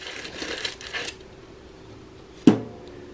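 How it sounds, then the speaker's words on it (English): Aluminum foil pushed down onto a mini bunny cake pan in a Dash mini toaster oven, with soft crinkling and rustling followed by one sharp metallic clink of the pan. "let me push the foil in."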